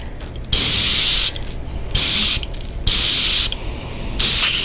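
A spray gun lays down pearl essence paint in four loud, close hissing bursts, each about a second long, separated by short pauses with quieter mechanical clicks.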